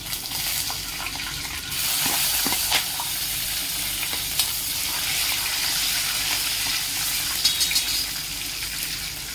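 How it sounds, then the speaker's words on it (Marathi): Peanuts sizzle and crackle steadily in hot oil in a pan, a loud, continuous frying hiss with occasional brief pops, and no voices. "तेल तापलेलं आहे। सर्वप्रथम आपण त्यात शेंगदाणे घालू।"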